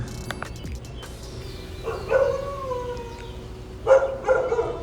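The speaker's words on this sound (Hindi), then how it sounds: "ये लोग वापस से भौंक रहे हैं, लड़ेंगे लगता है।" Several dogs bark and howl at a distance, with two louder bursts of yelping and whining calls separated by a quieter stretch.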